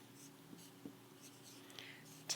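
Pen or marker writing numbers on a board during a math lesson, a few faint short strokes close by in a quiet room.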